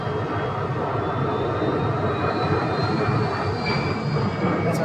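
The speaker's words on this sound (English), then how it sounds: "Southwest from Austin, Texas is coming in. MAX 8 right there." Southwest Airlines Boeing 737 MAX 8 jet arriving at Phoenix airport, a steady loud roar of jet engines with a high whine, sustained and close throughout.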